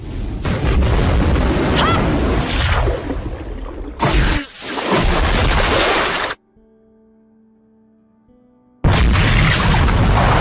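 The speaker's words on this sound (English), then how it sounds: "sending the werewolf flying into a row of police cars that promptly explode on impact" Anime fight scene in which a werewolf is hurled into a row of police cars that explode: heavy booming blasts and whooshing debris roar loudly for several seconds, then a brief near-silence with a faint tone before the loud rumble returns.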